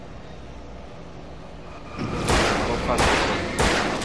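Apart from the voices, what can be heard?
gunshots in video game Alan Wake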